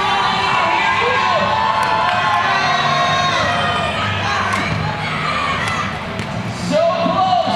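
A school crowd cheers on teams at a competition, a loud continuous roar of shouting and excited voices with occasional thumps and bounces, close and sustained throughout.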